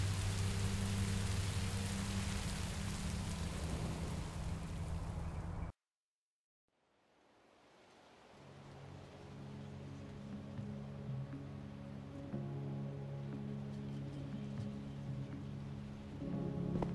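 Steady rain hisses loudly in Minecraft: Story Mode, cuts to silence for a couple of seconds, then gradually returns under faint tonal background sounds.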